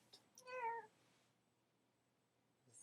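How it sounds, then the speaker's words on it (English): A single clear cat meow rises and falls over about half a second, fairly close and alone in a quiet room. A soft faint noise follows near the end. "There's some kind of cat in here."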